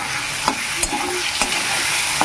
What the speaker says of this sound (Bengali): আদা রসুন জিরে বাটা দিয়ে দিলাম এগুলোকে একটু তেলে ভালো করে ভেজে নেবো